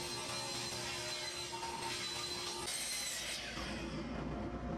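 Saw cutting through 5/8-inch plywood panels for a giant Jenga storage box, a fairly quiet, continuous grinding rasp that steadies partway through and carries on to the end.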